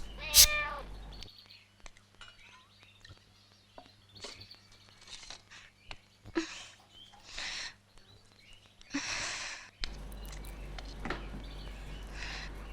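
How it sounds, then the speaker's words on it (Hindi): A house cat meows a few times in a domestic movie scene, short calls spread across the clip amid quiet room sounds, with faint background activity. "सारा खाना तो बिल्ली ने खा लिया"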